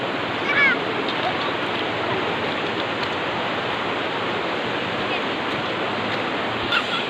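River water rushes past near a village, a dense, steady, close roar that runs unbroken for the whole stretch.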